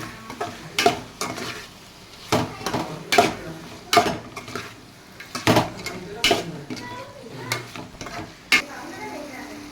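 Prawns fry in a pan with an ongoing sizzle while a utensil stirs and scrapes against the metal in irregular, clattering strokes, close and fairly loud.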